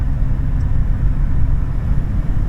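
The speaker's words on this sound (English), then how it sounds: "You hear the engine, you hear the road noise, there's a little bit of a whistle." A 2000 Toyota Tacoma on the road gives a loud, steady low engine drone mixed with rumbling tire and road noise, heard from inside the cab without talk.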